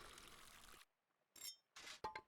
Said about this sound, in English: Water it.